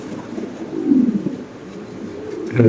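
Domestic deshi pigeons at a pigeon farm, kept with eggs and chicks, coo in a steady, close, low rolling murmur with no voices over it.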